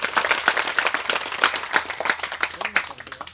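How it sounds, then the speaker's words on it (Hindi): Loud, rapid clapping from an audience at a talk, dense and continuous with uneven sharp bursts, heard alone without voices. "उसके लिए ताली बजाओ भाई जोर से।"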